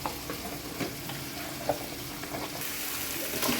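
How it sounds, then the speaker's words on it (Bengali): Tatkini fish fry in hot oil in a pan, giving a dense, steady sizzle with occasional light clicks from stirring throughout. "টাটকিনি মাছগুলো কিন্তু ভেজে নিয়েছে মা মানে সুন্দর হচ্ছে ভাজাটা"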